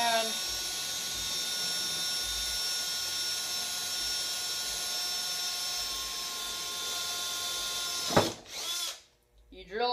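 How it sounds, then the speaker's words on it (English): A power drill running steadily as a 1/2-inch bit bores a hole through plastic while building a potato cannon, a constant high whine that cuts off near the end with a brief clatter and a short pause. "you drill a hole."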